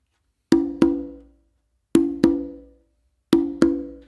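Hand-played conga pattern: two quick slap-and-tone pairs repeated three times, each pair a sharp crack followed closely by a ringing open tone, with clean silence between groups and no talking.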